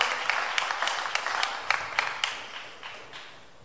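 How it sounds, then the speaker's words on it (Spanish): A church congregation applauds during a bilingual sermon, with sharp distinct claps over a clapping bed that gradually thins and fades over a few seconds. "Give an applause to the Lord"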